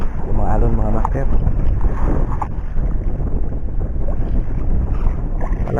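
Rough, choppy sea churns and slaps against a small fishing boat out in strong northeast monsoon wind, a loud continuous rush of water and wind buffeting the microphone, with a voice briefly heard over it.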